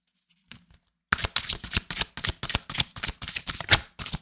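Tarot cards riffled and shuffled in quick, crisp bursts after a brief quiet start, with dense papery flicks and snaps repeating close to the listener and no talking.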